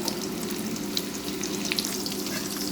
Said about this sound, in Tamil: பாவக்காயை எண்ணெயில் போட்டு பொரித்து எடுத்துக்கலாங்க.